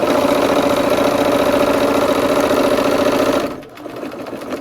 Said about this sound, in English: We're sewing our rows together.